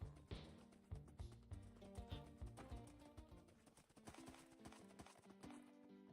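Horse hooves clip-clop in the Minecraft server Wynncraft, a steady run of quiet, close hoofbeats joined by a brief whinny.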